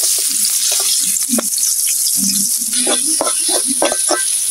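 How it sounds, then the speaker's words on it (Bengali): Sliced onion and green chilies frying in oil left from frying jatka fish, a steady close sizzle with scattered clicks and scrapes of stirring. "মাছ ভাজা তেল আমি পেঁয়াজ কাঁচামরিচটা দিয়ে দিলাম"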